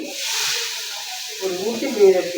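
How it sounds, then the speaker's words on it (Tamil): Two ladles of coconut-milk appam batter hit a hot pan, giving a steady, fairly loud hiss and sizzle at first that fades as soft clatter and low stirring noises take over near the end. "இந்த ஆப்பத்துக்கு மாவு எடுத்து 2 கரண்டி ஊற்றி"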